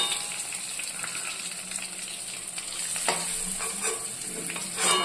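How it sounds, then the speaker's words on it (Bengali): Spicy pointed gourd fries in hot oil in a wok, a continuous close hiss and crackle with occasional scraping and stirring and no voices. "কড়াইতে তেল গরম হয়ে গেছে, ছেড়ে দিচ্ছি।"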